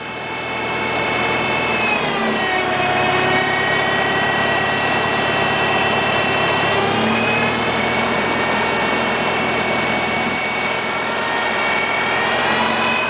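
A Farmall Cub tractor engine runs at half throttle driving a Surge milker vacuum pump, a loud continuous droning hum with steady whining overtones, close and unbroken, no voices.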